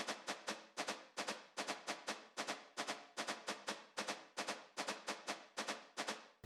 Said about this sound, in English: This shaker is honestly probably my favorite part of the entire instrumental